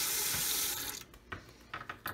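A tap runs water into a small bowl holding grout mixture, a steady rushing stream that stops after about a second, followed by a few light knocks and handling clicks.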